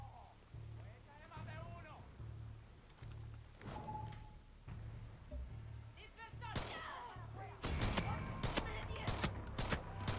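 Gunfire in Far Cry 6: rapid bursts crackle, starting scattered and rising into a loud, dense volley near the end, while someone talks over the shooting.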